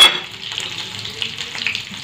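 Potato cutlets fry in a pan with a close, continuous sizzling hiss that flickers with small pops and bubbles, and no voices.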